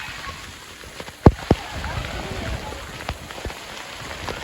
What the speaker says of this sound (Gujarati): બહુ ખતરનાક વરસાદ ચાલુ